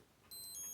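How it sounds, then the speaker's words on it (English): Seiko H558-5010 "Arnie" Fieldmaster digital watch alarm sounding a thin, high electronic beep that starts partway in and holds steady, close and alone in a quiet room. "There's your alarm test."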